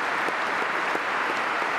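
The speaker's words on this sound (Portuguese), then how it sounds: "Recebido com aplausos no parlamento" Applause in the British parliament welcoming Zelensky, a uniform, dense roar of many hands clapping, steady and moderately loud with no pauses.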